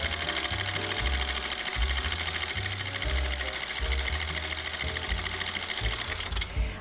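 A sewing machine stitches a buttonhole, its rapid needle chatter running continuously and loudly with a rocking, back-and-forth pulse as the mechanism jostles side to side, then stopping just before the end.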